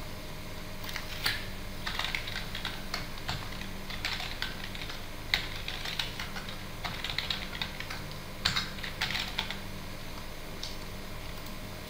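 Computer keyboard typing an email address into a login form, a steady run of light, quick key clicks in short bursts with brief pauses, close and alone without speech.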